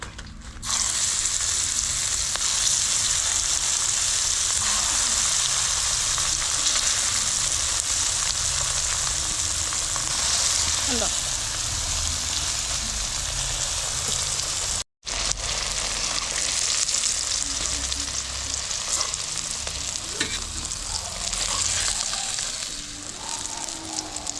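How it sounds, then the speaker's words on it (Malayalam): Needle fish frying in hot oil, Kerala style, a dense loud continuous sizzle heard close up that holds steady for the whole stretch, with a momentary cut near the middle and no speech. "ഇനി ബാക്കി മീനും കൂടി നമുക്ക് വറുത്തെടുക്കാം"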